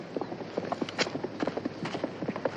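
Horse hooves clip-clop in quick, irregular beats at moderate volume, with some creaking and a busy background.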